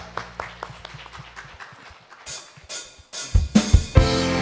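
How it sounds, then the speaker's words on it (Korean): A church congregation at a youth worship service breaks into applause, beginning with quiet scattered sounds and then swelling in bursts into loud, dense clapping toward the end. "주님께 영광의 박수 올려드립니다"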